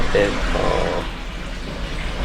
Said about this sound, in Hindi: अभी हमने नया पानी भरना स्टार्ट कर दिया है